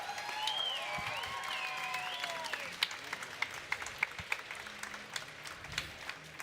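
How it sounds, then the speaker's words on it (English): Comic Con audience giving a standing round of applause for manga creator Masashi Kishimoto, a faint, distant patter of clapping with sharper individual claps building toward the end, a few high whistles early on. "if you would actually just stand and give this individual a round of applause"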